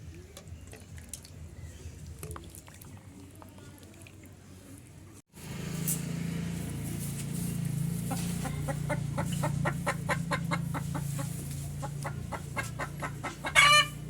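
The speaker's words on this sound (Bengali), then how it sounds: "আমাদের মুরগিতে ডিম দিয়েছে ওই যে ডাকছে" A hen clucks loudly and repeatedly after laying an egg, a rapid run of calls that gives way to a crow-like cackle near the end, close by, with a dripping sound in the background.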